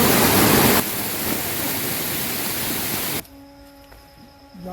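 Water rushes down a rocky stream in the Aravalli hills, a loud broadband roar that drops sharply in level partway through, leaving softer flowing noise with faint tonal sounds.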